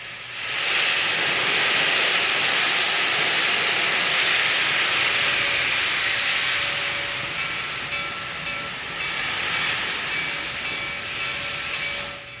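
Reading 2102 steam locomotive hissing steadily as it moves onto a turntable at the steam shop on a damp morning, a loud continuous rush of escaping steam with faint mechanical tones beneath, no talk.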